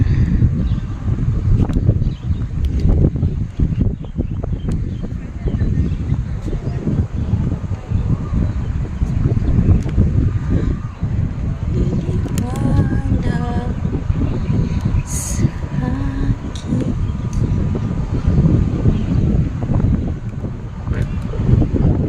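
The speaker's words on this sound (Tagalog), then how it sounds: "Grabe yung lakas ng hangin." Strong, steady wind buffeting the microphone, a constant low roar with gusty rumble throughout.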